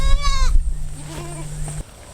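A rented goat lets out a loud, close bleat, followed by fainter, shorter bleats from others in the herd over a steady outdoor hum.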